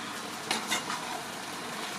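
Stirring sauce with black olives in a pan for lasagna: a steady sizzling, frying hiss runs throughout, with a couple of soft utensil scrapes against the pan, close and moderately quiet, with no talking.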